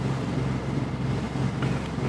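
A boat cruising on only one of its two engines near the tip of Texada Island, a steady low droning hum with wind rushing over the microphone and no breaks throughout.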